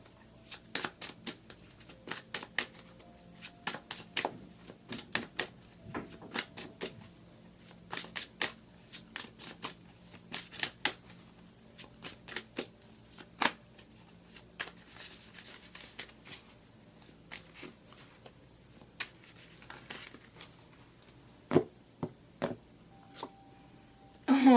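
Tarot cards shuffled by hand at close range, a steady series of crisp riffling and slapping bursts repeating throughout, with quiet gaps between and no talking.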